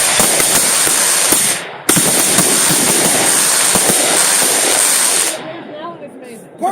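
Fireworks going off at a 2016 display, a loud sustained crackling barrage of firecracker bursts with a brief pause, then fading into scattered pops while people talk nearby.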